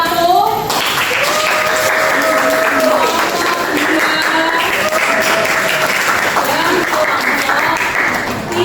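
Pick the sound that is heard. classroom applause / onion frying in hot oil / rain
classroom applause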